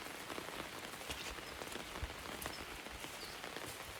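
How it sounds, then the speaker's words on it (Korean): Heavy rain falls steadily on a garlic field during harvest in Danyang, a dense, even patter of drops with no voices. "비가 많이 오네."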